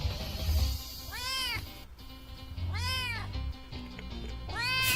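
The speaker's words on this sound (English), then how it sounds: "the first meow was like a mega loud jump scare" A cat meows three times in a row, loud and close, each call rising and falling, with quiet gaps and low background noise between them.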